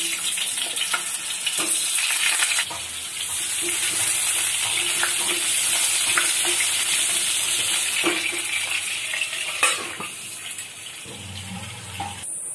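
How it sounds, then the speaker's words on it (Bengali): Steady, loud sizzling of potatoes frying in oil on a gas stove, a continuous crackling hiss with occasional stirring clatter, no voices. "আলুটা ভেজে নিচ্ছি।"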